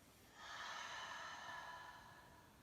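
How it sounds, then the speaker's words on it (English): A slow, soft breath pushed out through the mouth during a yoga flow, one long airy exhale lasting about two seconds, close and quiet with no talking. "Breathing in through the nose and out through the mouth."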